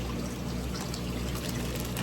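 Water dumped from a bag while transferring aquarium fish, a steady rushing pour with splashing trickle throughout, close and fairly loud, with no voices.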